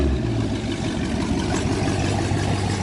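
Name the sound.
cars idling at a meetup, including a Camaro ZL1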